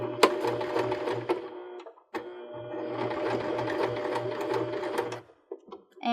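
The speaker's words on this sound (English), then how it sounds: "we'll sew the end of strap to itself again with about 1/4 inch seam allowance. And we'll start like back stitching just as before." Sewing machine back stitching the end of a cork purse strap, a loud close mechanical chatter running in two stretches split by a brief stop, then a few light clicks as it halts.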